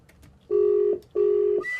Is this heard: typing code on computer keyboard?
no